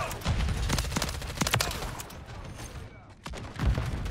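MCW submachine gun fire in Call of Duty: Modern Warfare III, rapid bursts of sharp shots close up, a long stream then a pause and another burst, with a voice talking faintly in the background.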